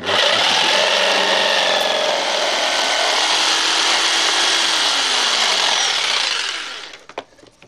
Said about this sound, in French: J'ai fait un pré-perçage pour pouvoir passer la lame au niveau du contreplaqué